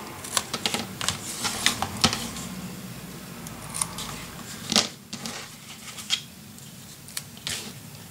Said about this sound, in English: Now this one I'm going to do with my scissors.